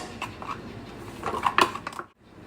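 A cooking pan for shahi paneer is set on the stove with a short metallic clatter of cookware, clanking briefly before a sudden stop and a quiet moment.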